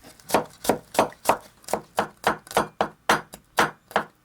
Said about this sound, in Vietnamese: Đầu tiên mình dùng 15 gram tỏi băm nhuyễn ra nha.